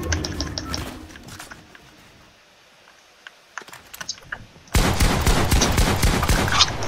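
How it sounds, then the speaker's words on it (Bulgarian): Gunfire in the video game Fortnite crackles in rapid bursts, fading to sparse scattered shots before a loud, dense fusillade erupts and keeps going. "Не знам, що стреля така."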